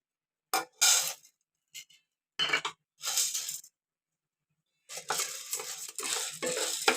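Gram flour being dry-roasted and stirred in a pan, heard as a few short bursts of scraping and clinking from a spoon against the metal. The bursts are separated by brief gaps, followed by a longer stretch of steady stirring near the end. No one speaks.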